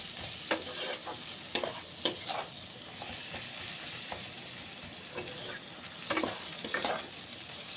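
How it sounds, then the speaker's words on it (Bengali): Onion and a large tomato fry in oil for a dried-fish curry, making a fairly quiet, even sizzle punctuated by regular sharp clicks and scrapes of stirring. "পেঁয়াজটা ভাজা ভাজা ভালো করে, অল্প ভাজা না, ভালো ভাজা হবে পেঁয়াজটা, ভাজা হতে থাকুক পেঁয়াজটা।"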